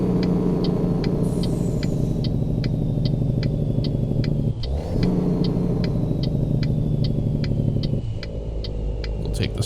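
A truck's engine brake drones as a steady, loud low rumble with a rapid rhythmic ticking above it, close and continuous, briefly dipping midway before resuming.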